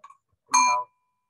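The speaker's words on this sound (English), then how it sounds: "for pedestrians, it's nice to have a bell" A bicycle bell gives a single bright ring that decays quickly, loud and close, with no talk over it.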